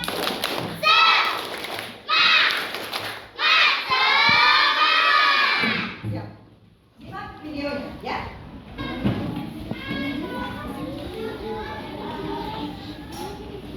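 Group of children chanting and clapping a rhythmic spirit clap in a classroom lesson, loud bursts of young voices shouting in unison, followed by a pause and then more chatter and claps.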